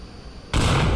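A grenade goes off in the VR shooter Onward: a sudden loud, close blast that cuts in halfway through and holds as a dense, roaring wash.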